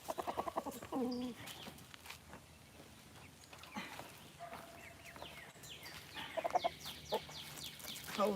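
A rooster in its pen gives short bursts of clucks and throaty calls, close by, with quieter rustling and scratching between them.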